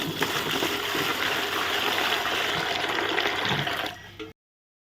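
Pillows are washed in water at home, a continuous splashing and sloshing gush that runs for about four seconds and then cuts off abruptly into silence.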